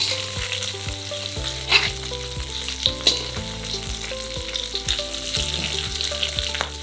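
Giant freshwater prawns fry in oil in a pan on an outdoor stove, giving a steady, close sizzle with crackles and the occasional stirring clatter, and no talk over it.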